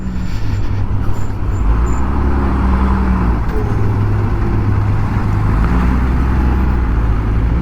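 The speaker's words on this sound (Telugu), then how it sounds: "ట్రాఫిక్ జామా" Constant road traffic noise in a jam on the Jammu–Srinagar highway, heavy engines idling and rumbling nearby with a low steady drone and faint higher tones above.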